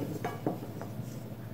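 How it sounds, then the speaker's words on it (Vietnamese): Sweet potato pieces shaken with flour in a container in a home kitchen, producing a few quick rattling knocks in short bursts, close and moderately loud, with no talking. "mình lắc đều cái bột mì vô đây"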